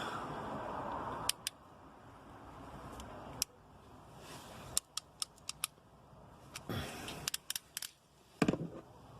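Ratchet wrench working on an ATV water temperature gauge, several short clicking bursts and sharp ticks over a faint background, close but quiet.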